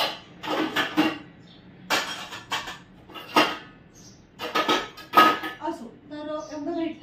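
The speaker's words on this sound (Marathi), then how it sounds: "झाकण पण बघा मी किती स्वच्छ घासते भांडी" Dishes and pots being scrubbed and rinsed by hand in a home kitchen, irregular bursts of scrubbing and running water with clanks of metal pans and lids between pauses.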